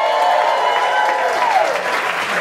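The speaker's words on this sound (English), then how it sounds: "Give us a cheer if you're excited for this evening's show" Audience at the 2017 Muppets celebration concert cheers and applauds continuously and loudly, a dense wash of clapping with voices whooping throughout.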